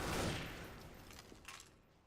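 Gunfire in a video game called AI SF, a dense burst of shots that is loudest at the start and then thins to scattered pops, heard alone without talk.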